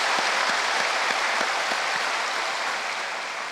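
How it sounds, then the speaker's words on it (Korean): A church congregation gathered at a prayer-mountain revival service claps in a dense, steady round of applause that fills the hall, fading slightly toward the end. "다시 한번 우리 감사의 박수 하겠습니다"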